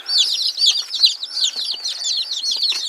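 Young chicks of the silver laced Wyandotte and barred rock breeds cheep and cluck continuously in a brooder, a dense, high-pitched chorus close by with no voices.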